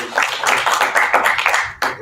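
People gathered inside a shop applaud, giving a short, dense patter of clapping that swells and fades over about two seconds.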